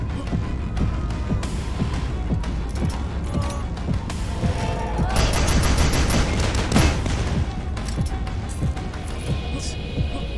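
A rivet gun in the shooter game DUSK firing rapidly and continuously, producing a loud, steady stream of dense rattling shots with layered game noise throughout.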